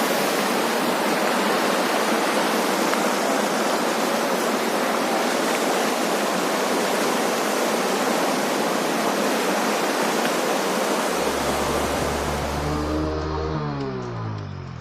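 A swollen village stream in flood rushes in a steady, loud roar of churning water, continuous broadband noise with no voices, and a low engine hum rises near the end.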